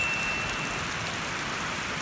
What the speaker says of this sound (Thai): ชุ่มฉ่ำนะวันนี้ฝนตกนะครับ